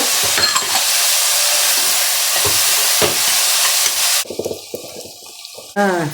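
Veg fried rice with spring onion and capsicum being stirred and mixed in a pan, a steady loud sizzle with scraping for about four seconds, then quieter clinks and a brief voice.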